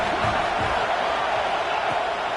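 A dense football stadium crowd cheers and roars as one continuous wall of noise, with no clear voice standing out.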